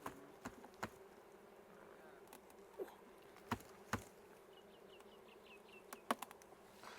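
Honey bees buzz deep inside their hive on a Maui farm, a faint, steady drone broken by several sharp knocks and clicks from handling the hive.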